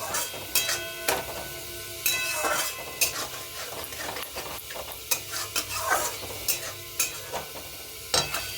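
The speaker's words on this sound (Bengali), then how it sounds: "এবার একটু নেড়ে চেড়ে নিই আর চিমনিটা বন্ধ করে দিই" Boal fish curry with cauliflower stirred in a pan, a spatula scraping and clinking against metal in irregular strokes over a soft sizzle, close and clear.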